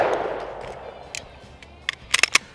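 Sharp gunshots from a Springfield XDM Elite 10mm pistol at an outdoor range; a decaying report opens, then a few isolated cracks and a quick cluster of rapid follow-up shots near the end.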